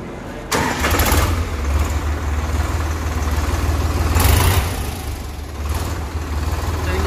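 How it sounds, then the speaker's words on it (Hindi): A heavy 40 HP diesel tractor engine cranks and fires, then settles into a loud, steady low rumble nearby, revving briefly before idling on. "उसके बाद ही ट्रैक्टर हमारा स्टार्ट होगा"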